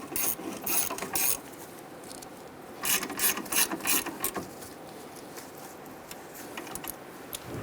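Hand ratchet snugging down front brake caliper bracket bolts on a 1994-2004 Ford Mustang, with short bursts of rapid clicking close by, pausing and resuming, no voices.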